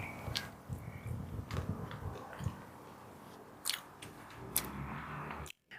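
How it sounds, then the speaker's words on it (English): Soft, close bites and squishy chewing into a raspberry fruit-shaped mousse cake with a crisp outer shell, several quiet crunches spaced over a few seconds. "I'm just biting into the first one without sitting down"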